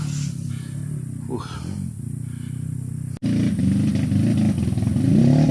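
A motorcycle engine labors on a hillside dirt trail, running steadily up close, cutting out for an instant, then picking up again with a louder, rougher chug; voices speak in the background.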